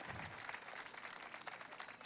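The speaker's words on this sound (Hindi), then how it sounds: "तालियां बड़ी करिए, थोड़ा और बड़ी करिए।" Applause from the audience at a kavi sammelan poetry gathering in Kawardha, a soft, continuous wash of many hands clapping heard from a distance, faint and steady throughout.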